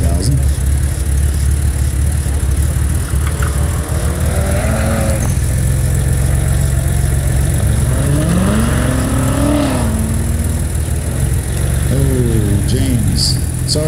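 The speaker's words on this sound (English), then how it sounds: "As James comes around the backside, car number 24, is 2001 Honda S2000" A 2001 Honda S2000 runs an SCCA autocross course, its engine revving up and dropping repeatedly through shifts and corners, loud and fairly near, while an announcer talks over the engine noise.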